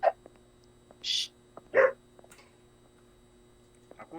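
Dog barking in the video game The Exit 8, a few short, sharp barks spaced apart against a quiet hum, moderately loud and alone.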